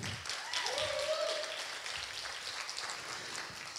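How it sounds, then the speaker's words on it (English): An audience applauds steadily at a business competition event, a dense patter of clapping that carries on at a moderate level with a voice briefly over it. "How about a round of applause for our top five?"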